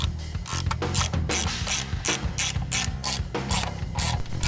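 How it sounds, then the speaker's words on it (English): Ratchet driving bolts in to start them, rapid continuous metallic clicking in repeated strokes, loud and close throughout with no voices. "Now we want to put a couple bolts in here and get it started."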